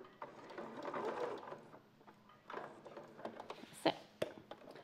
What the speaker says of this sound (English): So I'm sewing towards my pin now.